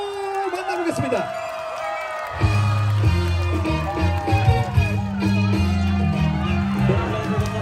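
An arena crowd cheers and claps for a trot singer at an outdoor show in Incheon. The noise swells for a couple of seconds, then a band's music starts and carries on over it.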